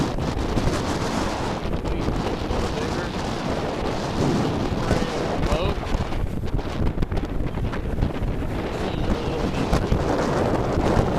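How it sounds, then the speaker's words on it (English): Strong 25-knot wind roars steadily across the microphone aboard a sailboat under way at sea, a dense, continuous buffeting mixed with waves and water rushing past the hull, loud throughout with no let-up. "Well, it's getting gnarlier and gnarlier. 25 knots wind here."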